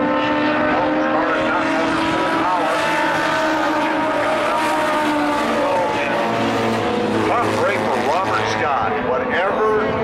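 Race cars lapping an oval at Tucson Speedway in a Legends race, engines droning loud and continuous with pitch sweeping up and down as cars pass, a commentator talking over the noise throughout.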